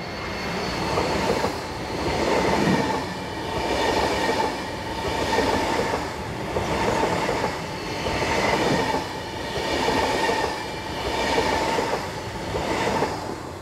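Class 514 S-Bahn trains running on the Rheinfallbahn near Zurich, producing a steady rumble with rhythmic clickety-clack of wheels over rail joints, repeating in regular pulses throughout.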